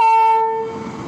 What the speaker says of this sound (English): here the electric loco at Gutti